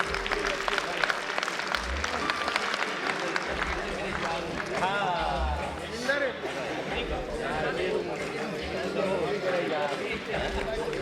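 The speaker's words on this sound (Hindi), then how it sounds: "जोरदार तालियां हो जाए।" An audience at a political gathering with a former chief minister breaks into sustained applause, a dense wash of clapping that runs throughout while voices talk loudly over it.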